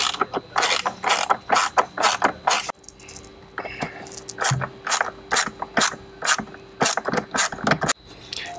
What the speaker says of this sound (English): There's 4 more 7-millimeter bolts on each corner of the instrument cluster that need to be removed.